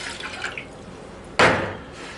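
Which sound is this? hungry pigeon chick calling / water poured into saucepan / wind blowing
water poured into saucepan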